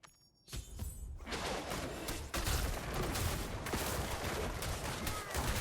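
Dense bursts of gunfire with whooshing effects rip through a fight in the game Diablo Immortal, a continuous loud barrage that starts abruptly after a short quiet moment.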